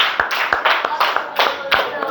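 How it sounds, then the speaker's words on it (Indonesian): A school class claps hands in short, uneven bursts of sharp claps, close by and fairly loud, with a few scattered single claps between them. "Tepuk tangan ya."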